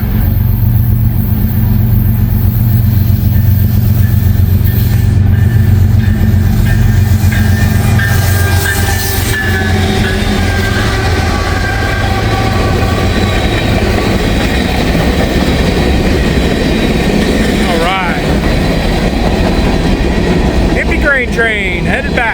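A Norfolk Southern freight train, heading north to pick up more grain, rumbles past loud and close, with a steady roar, rail clatter and clickety-clack building as the cars roll by.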